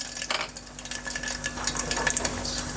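Mustard seeds and cumin dropped into about six large spoonfuls of hot oil for a guvar dhokli curry, giving a close, scattered crackle of small pops and sizzling spits that builds slightly over a few seconds.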